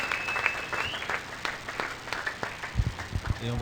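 Church congregation at a French-language sunrise service clapping and cheering, scattered claps and voices overlapping in an irregular burst, moderately loud, with a faint whistle-like tone early on.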